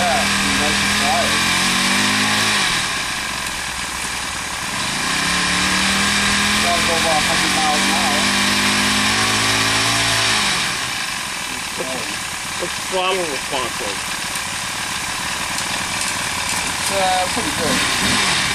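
A motorized four-stroke bicycle engine runs steadily nearby with a muffled exhaust, its pitch rising and falling as the throttle is blipped, while voices talk over it.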